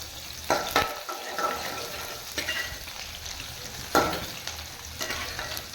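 Onions sizzling in a pan until golden for karuvadu thokku, a dried fish gravy; a steady close fry punctuated by several sharp scraping stirs of a spoon against the pan, no talking.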